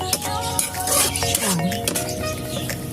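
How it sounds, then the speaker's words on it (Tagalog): A wobbly wok rattles and scrapes on a stovetop while Bicol Express with string beans cooks, metal knocking repeatedly against the burner grate in a busy, uneven clatter with faint sizzling underneath. "Ayusin natin at masyadong malikot ang ating kawali."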